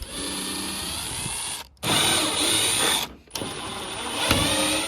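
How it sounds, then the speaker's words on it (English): A power drill backs out tail light screws on a 1995 Ford F150, whirring loud and close in three sustained runs separated by two brief pauses. "So we're going to start this install by removing the 4 screws that hold your"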